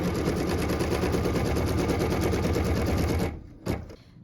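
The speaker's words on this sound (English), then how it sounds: "What we're stitching now is the tack down line for piece number 13" A sewing machine runs a tack-down line on a quilt block, a fast, continuous stitching rattle up close that stops abruptly near the end, followed by a brief knock.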